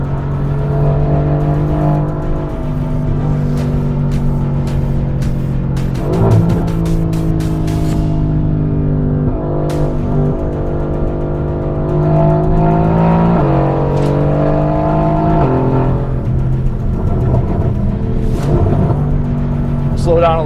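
A Mercedes-AMG GT sports car revs hard on a race track, its engine note climbing through gears with sharp shifts and repeated surges, loud and close throughout.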